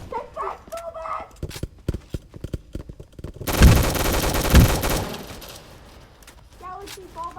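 Rapid gunfire bursts from the video game Rolling Thunder crackle loudly for about a second and a half mid-clip, amid excited talking and other game sounds before and after.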